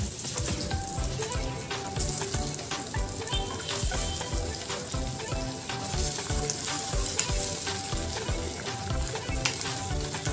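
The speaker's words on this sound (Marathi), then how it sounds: "त्यामध्ये आता मी हे अंडे फ्राय करून घेते." Eggs frying in leftover onion oil in a kadhai, with a steady, dense sizzle and crackle running continuously at close range, joined by occasional scraping taps.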